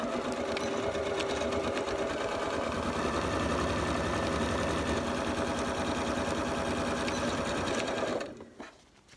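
A sewing machine runs continuously while stitching pieces of Halloween bunting together, a fast, even mechanical whirr that stops abruptly near the end.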